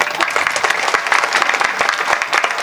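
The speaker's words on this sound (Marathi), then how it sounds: "गोढाळकरासाठी एकदा महाराज टाळ्या वाजवा" A kirtan audience breaks into brisk, loud applause, many hands clapping together in a dense, steady burst.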